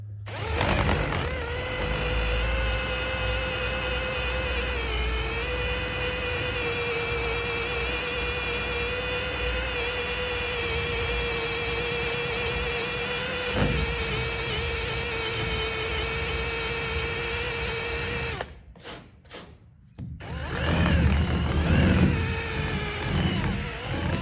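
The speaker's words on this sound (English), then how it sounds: "If you keep this flat to the body, it keeps this eraser wheel from getting worn down unevenly." A power tool spins an eraser wheel held flat against a car body to strip badge adhesive, giving a loud, continuous whirring drone for about eighteen seconds before it briefly stops and then starts again.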